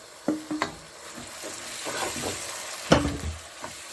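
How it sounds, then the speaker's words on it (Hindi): Mashed eggplant bharta fries in spices and kasuri methi in a pan, a soft steady sizzle broken by several sharp scrapes and clinks of a spoon stirring against the metal. "3 से 4 मिनट भूनेंगे इसको अच्छी तरह मसाले के अंदर"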